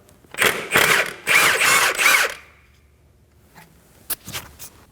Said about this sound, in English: Now we're gonna go ahead and get the pulley off using a 22mm socket